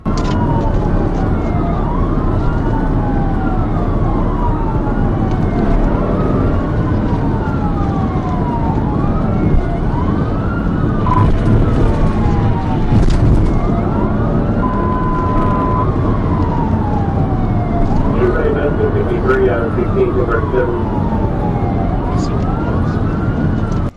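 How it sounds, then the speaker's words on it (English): Police sirens wail in repeated rising and falling sweeps while cruisers chase a Charger down an interstate at about 85 mph, loud and continuous, with brief horn-like blasts and road noise underneath. "Sirens blared as the car hovered around 85 miles per hour"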